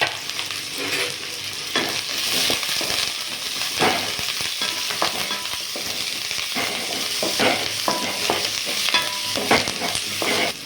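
Shallots, a green chili and curry leaves sautéing in hot oil for a Tamil red fish kulambu, giving a steady close sizzle and crackle with scattered stirring scrapes throughout, no talking.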